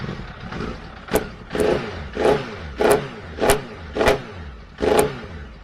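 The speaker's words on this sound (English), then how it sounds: "I'll give it a wee pump of throttle for you" A motorcycle engine is revved seven times in a steady rhythm, each throttle blip rising in a short sharp burst before dropping back to idle, close and loud.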